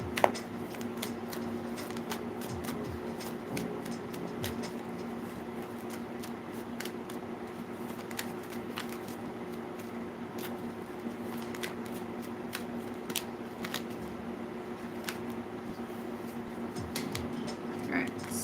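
Tarot cards being shuffled and pulled from a deck: a steady, close papery riffle and slide runs throughout, broken by frequent soft snaps and flicks as cards are handled, with no voices.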